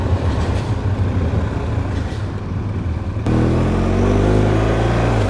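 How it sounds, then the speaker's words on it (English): A tram passes on a city street at night, giving a steady low rumble that grows louder and fuller partway through as it comes close, heard from a motorcycle with no talking. "And here comes the tram again. It's not hanging about."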